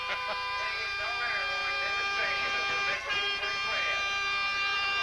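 A sustained air horn blares with steady harmonic tones over a noisy stadium crowd roar at a 1988 Gate City vs Radford game, with a brief dip near the end.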